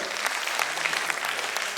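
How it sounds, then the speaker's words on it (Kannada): Loud, steady applause from an audience at a community association's annual family function, dense clapping sustained throughout without talk. "ಒಂಜಿ ಜೋರಾಯನ ಚಪ್ಪಾಳೆ"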